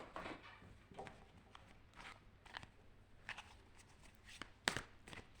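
Druid Craft tarot cards are shuffled in soft, quiet bursts of riffling and flicking close by, with one sharper snap near the end.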